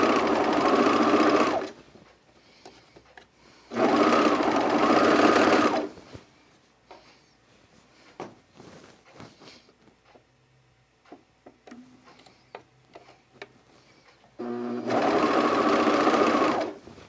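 A domestic sewing machine stitches a Sophie Dress in three loud, steady bursts of rapid mechanical whirring, separated by quieter stretches of fabric handling, clicks and faint talk.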